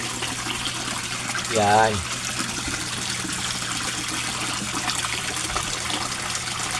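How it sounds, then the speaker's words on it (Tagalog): A submersible pump in a koi fish pond keeps water rushing and splashing in a steady, even wash of sound, while a voice briefly speaks a single word over it. "Ang submersible pump ko, yan oh."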